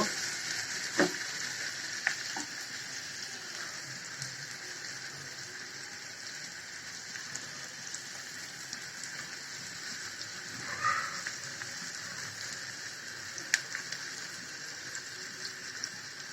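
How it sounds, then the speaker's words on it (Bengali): Onion frying in a pan for chicken korma, a faint steady sizzle with occasional soft clicks and stirring scrapes scattered through, no talk. "পেঁয়াজটাকে একটু ভেজে নেব।"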